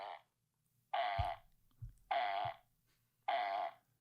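The fart alarm clock from a children's book sounds three loud buzzy farts at even intervals, each lasting about a second, with short quiet gaps between them.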